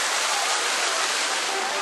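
Hot water geysers erupting in a video game, a steady broad rushing hiss of gushing water, loud and constant throughout with no pauses.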